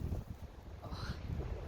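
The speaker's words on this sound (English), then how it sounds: "sorry if it's really windy" Strong wind gusts outside beside a shed and a temporary workshop gazebo. It comes across as a faint, low, buffeting rush against the microphone.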